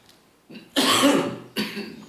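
Two harsh, close coughs, a long rough one followed by a shorter second cough, after a brief faint breath.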